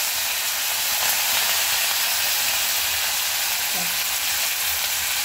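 Steady sizzling and crackling of a tempering of chilli and curry leaves frying in hot oil, a dense hiss that continues evenly throughout with no talking.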